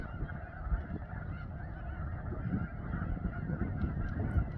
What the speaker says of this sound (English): Just kind of listening to the geese.